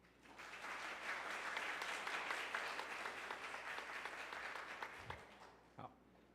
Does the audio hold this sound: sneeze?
no